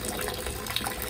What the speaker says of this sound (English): I am adding water to eventually capture a certain volume